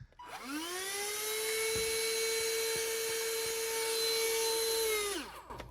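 Gtech Multi ATF036 cordless vacuum cleaner with a suction fault spins up to a steady high whine, runs for about five seconds, then winds down, close and alone.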